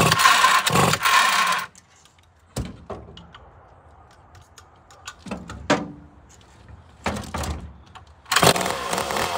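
A chainsaw engine bursts into a loud close running roar, falls silent for a stretch broken by sharp knocks and handling clunks, then roars back to full running at the end, with no talk.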